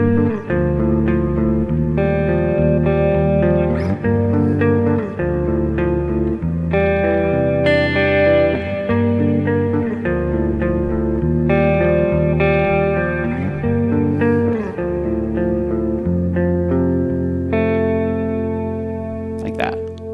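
Electric guitar through effects with a chorus-like shimmer and reverb plays a continuous, flowing passage, with layered chords and melodic runs, loud and close with no talking.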